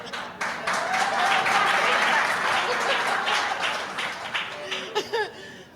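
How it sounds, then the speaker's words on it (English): Audience at an interfaith mayoral town hall claps in a dense, sustained burst of applause that thins out and becomes more scattered toward the end, with a few voices mixed in. "No, I want my claps"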